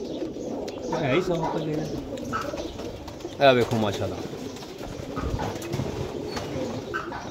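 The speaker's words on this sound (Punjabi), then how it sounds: "ਕਬੂਤਰ ਪਹਿਲੇ ਦੇਖਦੇ ਜਾਇਓ" Flying pigeons caught at a dera in Jhelum coo in low throbbing phrases close by, with one louder burst midway, while someone talks over them throughout.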